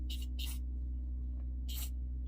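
Aerosol spray paint hissing in three short bursts onto a dress, in silver for a metallic finish, close by over a steady low electrical hum.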